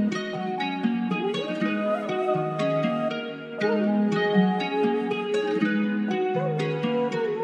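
Layered piano melodies for a trap beat, processed with EQ, RC20 and Echo Boy delay, play as a steady, dense loop of sustained chords and repeating lines, moderately loud and with no talking over it.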